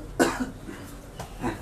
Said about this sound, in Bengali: খুব কাশি হচ্ছে